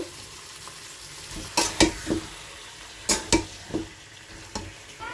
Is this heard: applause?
no